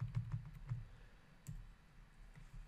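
Soft, close keystrokes on a computer keyboard come in a short irregular burst, a few quick taps and then scattered clicks, quiet and with no talking.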